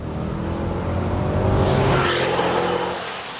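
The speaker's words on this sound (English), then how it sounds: "unless you knock it down a couple of gears and then floor it" A Chevrolet Camaro convertible V8 roars as it accelerates hard at full throttle after a downshift, the pitch climbing steadily over a few seconds before easing off.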